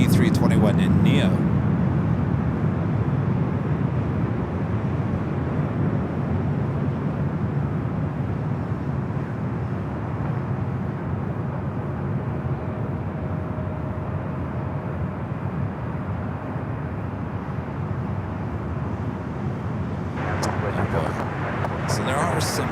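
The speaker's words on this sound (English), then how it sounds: "Next arrival is Delta Airlines flight 2914 coming in from Seattle and an A321 in Neo." A Delta Airlines Airbus A321neo airliner arriving at LAX, a steady broadband jet roar rolling on for about twenty seconds, with a brief burst of other noise near the end.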